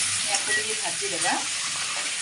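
Oil sizzling hard in a hot kadai while frying for a dhaba-style egg curry, a constant close crackle with faint stirring scrapes.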